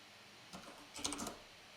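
Fingers type on a computer keyboard in a brief, faint burst of a few quick clicks, close and quiet against a low room hiss.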